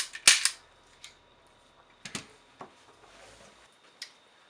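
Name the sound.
function check dry-fire clicks of Sig Sauer P225 pistol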